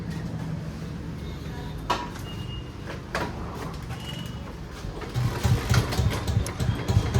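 A Royal Enfield Bullet motorcycle engine idling nearby with a steady low thrum that grows louder and rougher toward the end, with a few sharp knocks in between.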